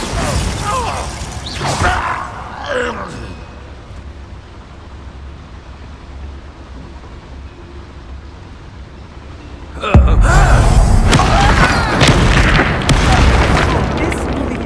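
A Bombarda spell explosion in Hogwarts Legacy bursts with a sudden loud boom and crashing debris that keeps rumbling for several seconds after quieter clanking mechanisms and earlier impacts, with a voice speaking during the action.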